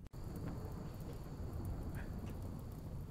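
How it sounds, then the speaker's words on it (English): Rain in the video game Rimworld falls as a steady, soft hiss of dense wash, with a few faint brief patters and a low rumble underneath, no talk. "And sometimes you get lucky enough that it starts raining."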